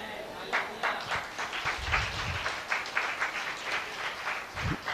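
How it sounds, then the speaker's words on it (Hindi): Scattered audience clapping at a church sermon, a loose patter of many hands of moderate loudness with some voices murmuring underneath. "अरे फुसकी ताली बजाते हो तुम लोग।"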